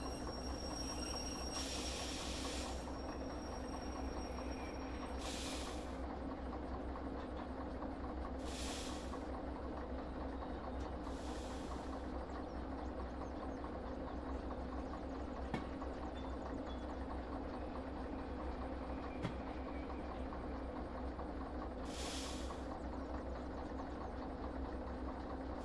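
Video game train hauling cargo of ammonium nitrate, gasoline and acetylene rumbles steadily along its track for the whole stretch, with recurring hissing bursts every few seconds and occasional sharp clicks, no voices.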